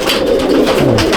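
Pigeons at a loft in Mominpur, Kolkata, giving a brief burst of close, overlapping low cooing.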